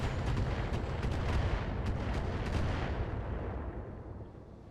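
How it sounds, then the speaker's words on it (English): A heavy missile barrage from mechs in the modded BattleTech video game lands as a dense rumbling roar of overlapping blasts and rapid impacts that gradually fades away. "Oh, there's gonna be a lot of missiles."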